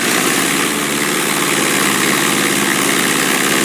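Light aircraft engine in the FlyWings 2018 flight simulator game, throttled back to about 1700 RPM, giving a steady, continuous drone with a broad hiss and a low rumble that holds constant throughout.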